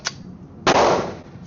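Glock 23 Gen 3 pistol firing outdoors: a faint sharp click, then one loud, close report with a brief ringing decay, no voices.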